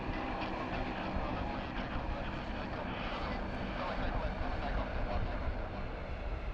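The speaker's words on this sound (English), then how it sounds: "She's just taxiing and holding short of runway 25 at the moment on taxiway Alpha." A Qantas airliner bound for Santiago taxis at Sydney Airport toward runway 25 on taxiway Alpha, its jet engines giving a steady, continuous roar heard from a distance, with a voice talking over it throughout.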